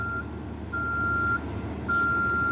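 Reversing beeps sound from a vehicle recovering a bus after a deadly crash involving pedestrians in Boston: long, steady electronic tones repeat over a low engine hum.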